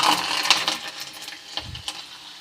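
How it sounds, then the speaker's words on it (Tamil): Mustard seeds and garlic crackle and sizzle in hot oil for a lemon rice tempering, with sharp close pops scattered over a steady hiss. "எண்ணெய் நல்லா காஞ்சிருச்சுப்பா. கடுகு போட்டுக்கலாமா? கடுகு, அடுத்தது பார்த்திங்கன்னா பூண்டு"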